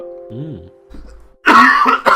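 A person with COVID coughs and clears their throat, a short harsh burst near the end after a quieter stretch, loud and close.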